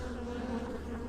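Bees buzz in a steady, close drone throughout a beehive inspection, one continuous hum with no talking.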